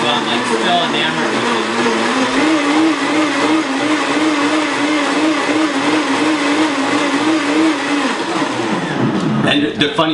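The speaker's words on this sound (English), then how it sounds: "we added the ice, and we're going to use Adam's Super Blend Tech blender to do Set to smoothie." A Super Blend Tech blender whirs loudly on its smoothie setting, crushing ice into fresh juice, the motor pitch wavering as speed shifts automatically, then winding down near the end.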